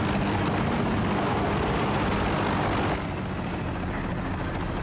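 Helicopter flying in the game Battlefield: Bad Company, a loud, dense, continuous rotor and engine roar that holds steady the whole time, briefly dipping slightly in level partway through, with no voices.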